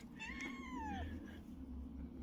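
A pet cat named Zoro, kept outdoors, gives one drawn-out meow that falls in pitch, faint and a little distant over a low steady background hum.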